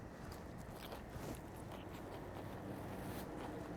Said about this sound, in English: Fantastic crunch.